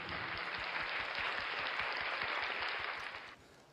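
Warm, dense audience applause at a Master Kong launch event greets a tea-brewing champion guest, holding steady for about three seconds before tapering off quickly.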